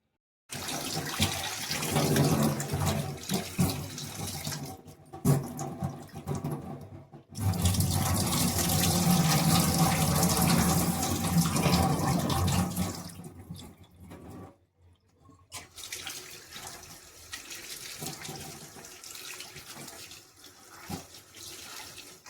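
Running tap water pouring over a bunch of fresh dill leaves in a kitchen sink, a loud continuous splashing gush that pauses briefly a few times and resumes, with no voices.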